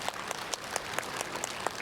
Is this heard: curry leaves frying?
no